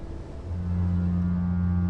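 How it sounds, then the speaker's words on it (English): The Nantucket lightship's foghorn sounds at sea: a deep, sustained horn tone swells in partway through and holds steady and loud, with faint water and ship ambience beneath. "Nantucket's foghorn still sounding off to the starboard side"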